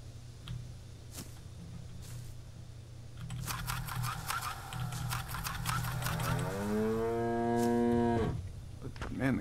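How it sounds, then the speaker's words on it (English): Cows mooing in a video game set on a farm: a long, drawn-out moo swells in the second half, rising then falling, over soft ambient hum and a few clicks. "Man, the cows are scary."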